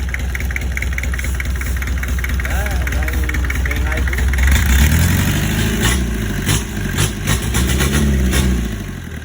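A Mitsubishi 4DR5 engine in a Camelback truck, in good condition, idles with a steady low rumble, then revs up louder partway through while someone talks over it.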